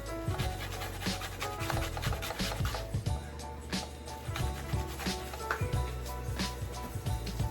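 Fresh ginger is grated by hand to season Jamaican-style stew pork, giving close, steady rasping scrapes in a quick repeated rhythm with no voices over them.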